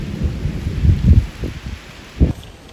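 Thunder from a supercell storm in the Cariboo region of Canada, heard as several deep, rolling rumbles that swell and fade, the last a sharper low crack near the end, over a faint background of rain.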